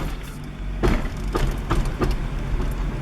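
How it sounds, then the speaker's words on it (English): A 1998 Acura Integra turns right in first gear while its drivetrain gives a few dull clunks and knocks over the car's low steady engine hum, no talk. "Massive clunk."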